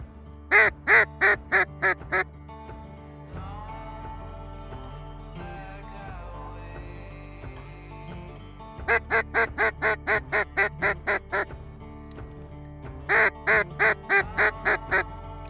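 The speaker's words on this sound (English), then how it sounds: "Hey, duck out front. Single duck out front coming" Ducks quack in rapid bursts of several loud, close calls, with quieter stretches between them, during a duck hunt.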